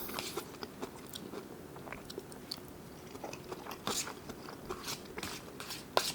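Someone eats kimchi fried rice (kimchi bokkeumbap) from a cheap delivery order, with close, faint, irregular crunchy bites and chewing and no talking.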